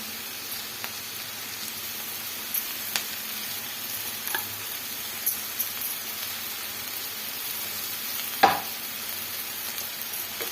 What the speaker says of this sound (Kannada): ಕೊತ್ತಂಬರಿ ಸೊಪ್ಪು ಸೇರಿಸ್ಕೊಂಡು ಈ ಥರ ಒಂದ್ಸತಿ ಮಿಕ್ಸ್ ಮಾಡ್ಕೊಳ್ಳೋಣ.